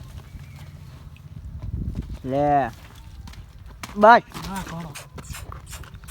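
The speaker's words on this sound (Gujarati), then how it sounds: "ઘોડો ઠેકી રહ્યો છે" A horse moves and jumps outdoors, its hooves clopping in scattered bursts while people shout and call out loudly around it.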